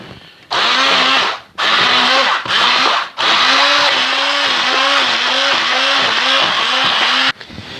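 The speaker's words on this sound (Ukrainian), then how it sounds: "Тому ми використаємо для цього блендер." A kitchen blender minces a fish filling for stuffed fish. It runs loud and close in two short bursts, then holds a long, steady whirring spell with a wavering, labouring pitch before it cuts off.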